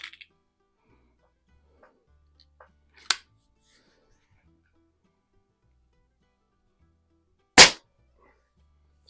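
Two sharp, isolated reports from a .22 rifle fitted with red and yellow or green fiber-optic sights, fired at targets outdoors, one near 3 seconds and a louder one near 7.5 seconds, with quiet gaps between.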